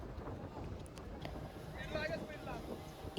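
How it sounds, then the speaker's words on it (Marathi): A speedboat on the Kasarsai Dam reservoir, with steady engine and water rush mixed with wind buffeting the microphone, continuous and moderately loud. "ही जी आहे ही स्पीड बोट आहे, जी की सरळ नाही चालत जास्त."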